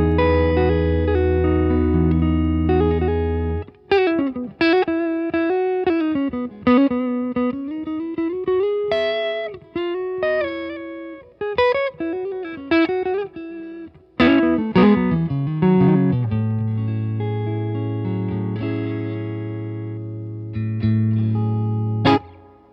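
Electric guitar fitted with an STP90 P-90 style pickup, played through a distortion pedal: sustained overdriven chords, then a run of picked single notes and bends, ending on held distorted chords, loud and alone with no talk.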